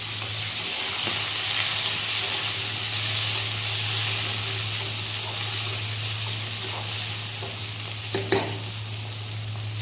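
Green chillies and onions frying in hot oil in a pan for an aloo paneer curry, a loud, continuous sizzle throughout with light stirring scrapes.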